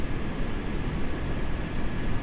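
Steady whooshing engine drone of a flying car in a video game, airborne, a continuous even roar with no voices.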